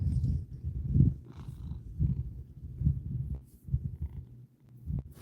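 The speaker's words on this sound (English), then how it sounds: "you might hear Crazy Church over here purring" A cat named Crazy Church purring up close, a low steady rumble that swells in soft rhythmic pulses about once a second, with no talking.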